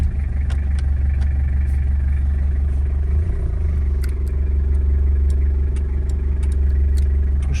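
A 1990 Toyota Hilux Surf with a 3L diesel engine idles just after starting, a loud, steady, close diesel clatter that runs evenly throughout with faint ticking on top.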